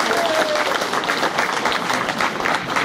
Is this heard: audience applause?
yes